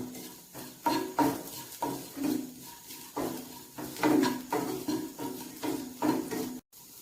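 Potato and vegetable mixture sautéed in a pan with chilli powder and salt, heard as a steady run of metal spoon scrapes and clinks against the pan, repeated knocks at a roughly even rhythm, close and moderately loud with no talk.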